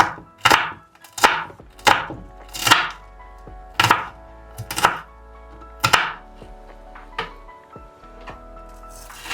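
Red onions chopped with a knife on a cutting board, about a dozen crisp, sharp knocks at an uneven, unhurried pace, close and clear with no talking.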